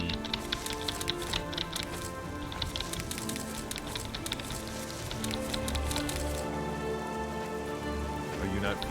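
Rain in The Elder Scrolls IV: Oblivion patters steadily and densely with crackling drops, while a tonal game soundtrack hums underneath and a low thump enters near the end.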